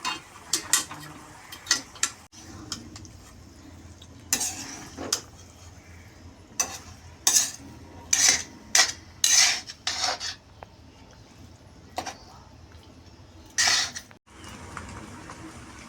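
Utensils scrape and clatter against a pan while pasta is stirred and mixed, giving irregular metallic clinks and knocks in short bursts with quieter pauses between them.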